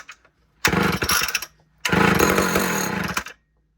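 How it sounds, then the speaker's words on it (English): An old, somewhat heavy chainsaw being pull-started: two loud close bursts of engine rasp, each about a second long and separated by a short pause, with no talking. "You gotta pull it once or a little bit twice to get them to start."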